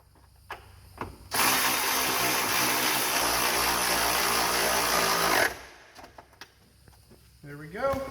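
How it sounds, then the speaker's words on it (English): A ratchet with a 14 mm socket tightens the coilover bolts on a Miata's TEIN Street Basis Z coilovers, a dense, steady clicking burst lasting about four seconds, close by, with faint talk before and after. "we're going to take that 14 millimeter and tighten these ones up"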